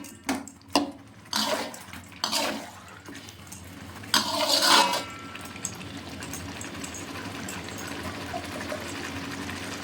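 Chicken kosha is stirred in a pan on a gas stove: a few sharp scraping clanks of a spoon against the pan, then a long steady sizzling hiss with no talking.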